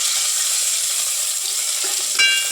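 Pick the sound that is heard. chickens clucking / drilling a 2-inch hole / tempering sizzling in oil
tempering sizzling in oil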